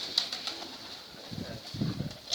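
Soft low pigeon coos pulse in a short rolling series near the end, with faint high chirping and background hiss throughout.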